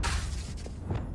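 A Confringo fire spell blasts in Hogwarts Legacy, a short burst with a crackling, shattering edge and a brief whoosh over steady game ambience, no talk.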